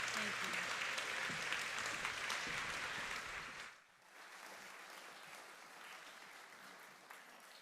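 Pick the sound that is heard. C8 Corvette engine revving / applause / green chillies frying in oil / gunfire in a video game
applause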